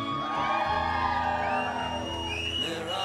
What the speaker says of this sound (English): On the count of three, a round of applause.